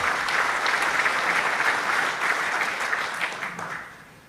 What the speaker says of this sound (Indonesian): Tepuk tangan untuk komandan kita.